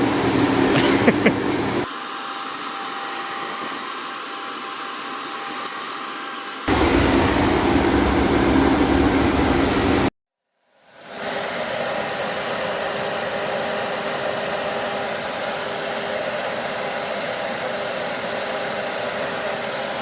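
Upgraded Spal electric radiator fans on an 82-92 Camaro running loud and close, a steady broadband whoosh that shifts level in stages before cutting out briefly, then resumes as a continuous airy roar.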